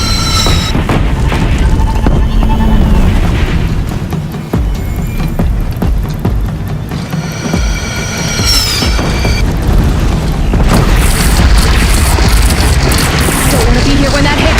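Cannon fire in the Horizon Zero Dawn video game, with deep booming blasts and rumbling explosions over continuous loud battle noise and ringing effects, and shouted voices mixed in.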